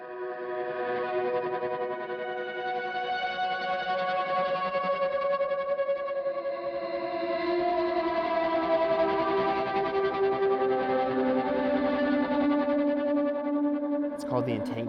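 An Eventide H90 running the Entanglement preset, with ultra tap delay and tremolo reverb, produces a sustained, shimmering wash of layered echoing tones that swell and pulse gently, ending with a sharp burst.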